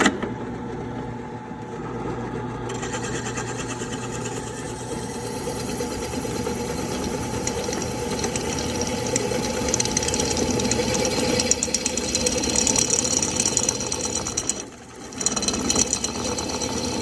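A power drill bores a hole in a drift car's steering parts during an angle mod, giving a steady, close mechanical whine that drops out briefly near the end before resuming.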